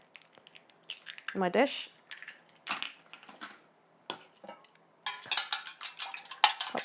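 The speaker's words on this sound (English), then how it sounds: "So I'm going to crack a couple of eggs into my container" Three eggs cracked one after another into a dish: sharp shell knocks and clicks in short bursts, close up, with a voice talking between them.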